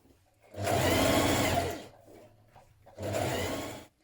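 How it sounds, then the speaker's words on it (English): A sewing machine runs an edge stitch along a sweatshirt seam onto the side panel in two close, steady motor bursts, the first longer, separated by a brief pause and with no talking. "you're going to stitch a 3mm edge stitch down this seam onto the side panel"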